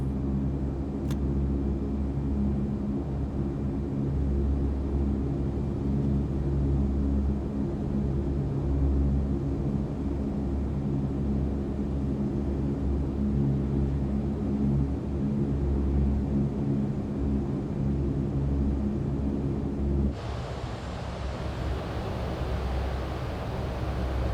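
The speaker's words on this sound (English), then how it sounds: "we are going to go ahead and start our takeoff roll" A C-130 military transport aircraft, H or J variant, rolls down the runway for takeoff, its propeller engines giving a steady, loud, continuous rumbling drone that holds throughout and changes tone slightly near the end.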